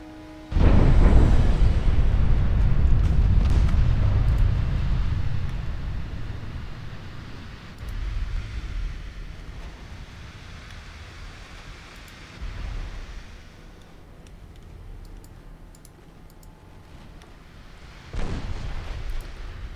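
Naval 7-inch gun salvos and shell explosions in the Ultimate Admiral Dreadnoughts video game: a loud heavy boom opens into a long rumbling roar, followed by softer booms at intervals and a final sharp blast near the end.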